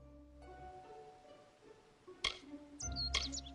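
Bright chirps from a mockingbird character in the fantasy role-playing game Kingdoms of Amalur: Re-Reckoning, a couple of short sharp bursts over a quiet hum, the second a quick double chirp.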